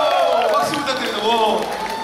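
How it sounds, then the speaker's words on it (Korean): Audience clapping and cheering at an Aladdin music showcase, a close, lively burst of applause mixed with excited voices and chatter that carries on throughout. "박수 부탁드립니다."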